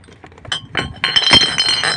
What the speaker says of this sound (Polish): Szkło do szkła, co?